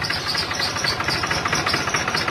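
A New Holland TD D series tractor engine idles with a steady low rumble that wavers and sputters unevenly from air in the engine filter, close and continuous, with no voices.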